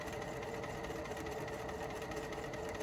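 A sewing machine runs at a slow, steady pace while stitching apron straps, a continuous close mechanical whir and rapid needle chatter with no talk.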